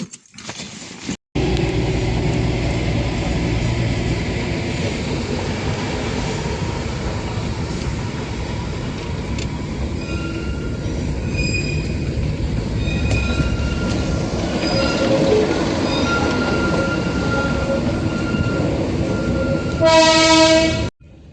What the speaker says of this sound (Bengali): টয় ট্রেন সেই টয় ট্রেনের দর্শন কিন্তু আমরা পেয়ে গেছি দেখতে পাচ্ছেন আমাদের আগে পিছে